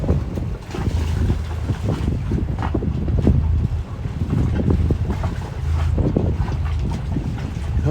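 Steady wind gusts buffet a sailboat at anchor off Andratx, Mallorca, a constant loud rush with water and boat noise beneath, continuous throughout with no voice.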